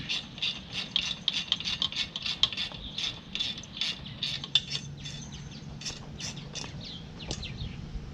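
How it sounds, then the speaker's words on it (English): Screws come out of a GM AutoRide air suspension under a ratchet fitted with a T25 Torx bit. Quick, repeated ratcheting clicks run in uneven bursts throughout, close up and moderately loud, with occasional light metallic taps. "So I got a T25 Torx bit, and that actually loosened up pretty easy."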